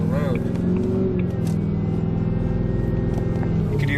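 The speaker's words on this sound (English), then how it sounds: "You can hear the supercharger on this car." A 2005 Jaguar XKR Stirling Moss Edition with a supercharged engine pulls along the road from inside the cabin, its steady engine and exhaust drone joined by a supercharger whine, with talk heard over it.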